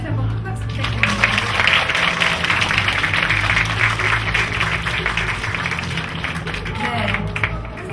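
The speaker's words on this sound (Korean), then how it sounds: "여러분 다시 한번 큰 박수 부탁드립니다" Audience claps after a lecture at an outdoor talk event, a steady dense wash of clapping over a low, constant bed of background music throughout.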